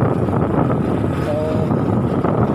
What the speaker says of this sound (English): ito na guys yung motor